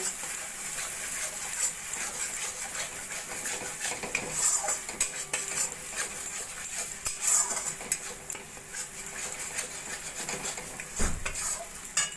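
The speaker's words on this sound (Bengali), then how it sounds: "ক্রিমটাও ভালো করে মশলার সঙ্গে মিশিয়ে নেব।" A utensil scrapes and clinks against a pan as fresh cream is stirred into spices, giving repeated metallic taps and swishes over a faint steady sizzle, with no talking.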